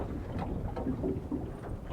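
Steady wind rushes and rumbles against the microphone while walleye fishing at Grass River, Manitoba, a dense low buffeting that carries on without pause and without any talking.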